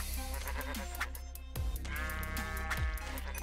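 Sheep bleating in the video game Minecraft, several wavering bleats in a row, some overlapping, loud and close over steady game background sound.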